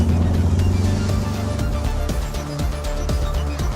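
The petrol engine of a 2015 Ford Focus ST runs with a deep, steady drone that rises slightly, loud and close, with no voices over it.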